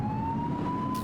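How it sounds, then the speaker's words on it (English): A police car siren in the video game The Precinct sounds as a steady, slowly rising tone over a low engine rumble, alone and brief. "Get behind them and flip the siren and make them pull over."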